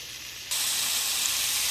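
Potatoes and onion leaves go into a hot pan with bottle gourd peel, and a loud hissing sizzle bursts up suddenly and holds steady, close and alone.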